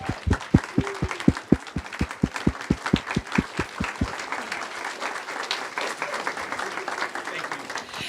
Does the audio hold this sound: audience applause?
yes